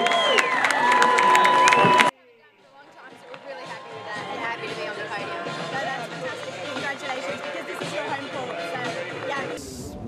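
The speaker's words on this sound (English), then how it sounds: "give them a big round of applause" A crowd at the prize ceremony for the eighth stage of a race applauds and cheers steadily in the background, under loud talk from an announcer.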